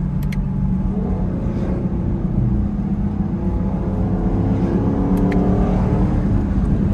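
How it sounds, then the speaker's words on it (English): A Chevrolet Camaro 1SS with an 8-speed transmission, engine and exhaust rumbling loudly and steadily up close, a deep throbbing drone with slight swells in pitch. "every single time I let off the gas, my car pops."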